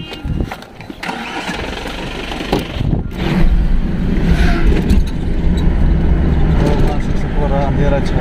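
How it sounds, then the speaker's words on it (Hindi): A car engine cranks and catches, then settles into a steady, fairly loud running rumble that continues to the end. "वहां से आई गाड़ी"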